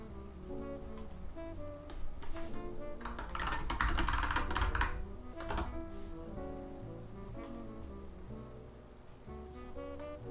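Keys clatter continuously in quick, uneven bursts of typing on a computer keyboard, close and fairly soft, with a busier flurry midway.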